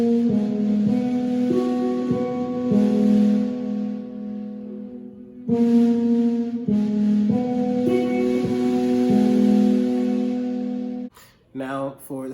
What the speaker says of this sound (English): The picking pattern is you pluck the third string with your first finger